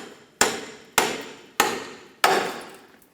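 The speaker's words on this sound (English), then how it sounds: "Give it a tap so that separates" A pickle fork is struck four times with a hammer to split a lower ball joint from the steering knuckle on a 2007-2013 Mini Cooper, sharp metallic blows evenly spaced and close, each ringing briefly before the next.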